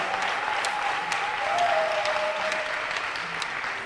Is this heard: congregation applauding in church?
yes